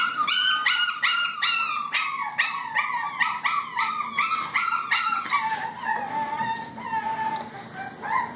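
Shih Tzu–Bichon cross puppies yip and howl in a rapid, overlapping chorus of high whimpering cries, close and loud throughout, with no talking.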